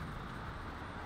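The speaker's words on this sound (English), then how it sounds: "The street beside me is very noisy today." Steady, dense roar of road traffic from a busy street close by, a continuous broadband rumble with no distinct passing vehicles and no talk.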